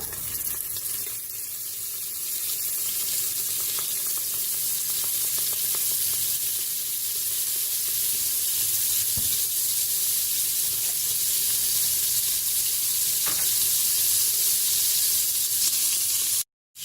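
Fat melts in a heated Cookeo multicooker pot, producing a steady, moderate sizzle with a hissing, watery texture that runs evenly to the end, with no talking.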